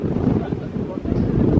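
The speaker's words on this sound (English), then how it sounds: "It's a bit windy though." Strong wind buffets the microphone on the Malvern Hills, a continuous loud rumbling gust that swells toward the end, with no pause across the stretch.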